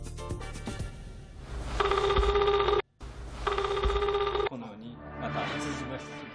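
A cell phone rings from inside a rubber-backed case submerged underwater, two clear bursts of steady electronic ring tones separated by a short pause, fairly loud over a low rumbling background, followed by a fainter warbling tone.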